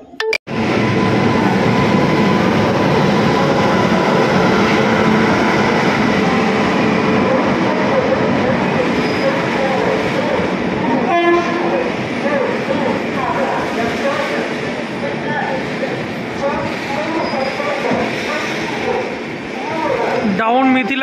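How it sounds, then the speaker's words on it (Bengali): The Down Mithila Express pulls into platform 4 at a station, giving a loud, steady rumble and rolling rail noise close by for about twenty seconds, with people talking over it. "ডাউন মিথিলা এক্সপ্রেস, এটা কিন্তু 4 নম্বরে এসছে।"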